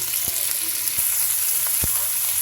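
Onion and shrimp fry in a pan for a Barisal-style shapla and coconut dish, giving a loud, steady sizzle punctuated by occasional low knocks of stirring.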